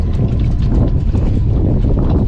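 Steady wind buffeting the microphone in a harbour at Alcudia, Balearic Islands, a dense low rumble with gusty swells throughout, no voices.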